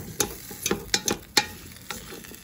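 A spoon stirring flour in a pot over a fire for corn chowder, a handful of soft scraping strokes and light taps under a faint sizzle, close and quiet.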